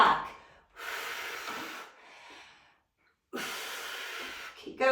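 Several audible breaths come and go during an intense hip stretch, with a strong exhale followed by softer breathing and another loud breath near the end, close and unaccompanied.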